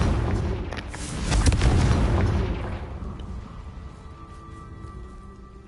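A Confringo blasting spell explodes in the video game Hogwarts Legacy: a loud, close booming blast that swells for a couple of seconds, then decays into a fading rumble.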